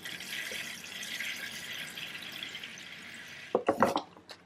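Water trickles and splashes as a potato plant in a bonsai pot set in a tray gets a thorough watering, a quiet steady hiss of flow followed by a few louder drips and splashes near the end.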